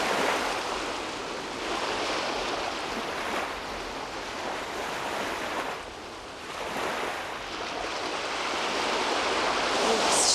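Water washes and laps continuously along the Lake Baikal shore, a steady rushing surf with gentle swells and some wind noise, no voices.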